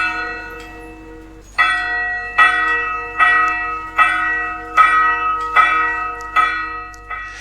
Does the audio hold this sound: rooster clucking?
no